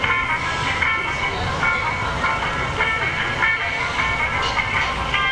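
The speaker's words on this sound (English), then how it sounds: "And New Jersey Transit train in the background." A New Jersey Transit train rumbles by in the background at an outdoor holiday parade, a steady wash of rail noise with tonal squeals or horn-like bands throughout, amid crowd ambience.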